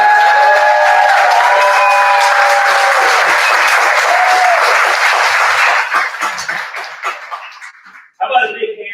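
Loud, dense applause fills a room at a ministry gala, with cheers and a few whoops over steady clapping that thins and fades out, then a voice starts talking.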